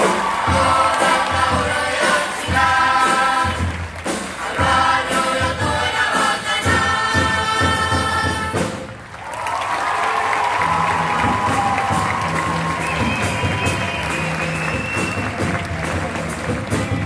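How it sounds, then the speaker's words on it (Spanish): A murga audience bursts into loud, dense applause and cheering with shouts and whoops, then after a brief dip the crowd noise continues steadily beneath singing voices. "este público aplaude"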